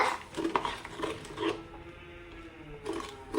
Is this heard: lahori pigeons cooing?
no